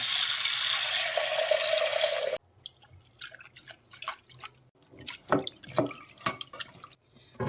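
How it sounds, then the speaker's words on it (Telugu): Moong dal being rinsed with water in a pressure cooker: a steady rush of poured water for about two seconds, then scattered close drips, swishes and small splashes as the lentils are swirled. "ఈ మూంగ్ దాల్ ఇప్పుడు కుక్కర్‌లో వేసాను. కొంచెం వాటర్ బట్టి నీట్‌గా కడుక్కుందాము."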